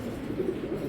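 A black checker racing pigeon, a 2013 breeding male, gives a low, soft coo at close range in one brief rolling call.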